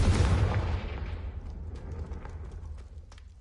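A Confringo blasting spell explodes in Hogwarts Legacy: one loud, booming blast with a rumbling tail that fades slowly over several seconds, with no talking.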